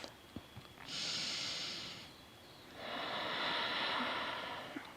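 Deep, slow breathing during a yoga pose: a long airy inhale, a short pause, then a longer exhale, close and soft against a quiet room.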